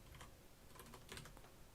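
Faint, rapid keystrokes on a mechanical keyboard with red switches: a quiet run of light clicks at an uneven rhythm, close by, with no talking.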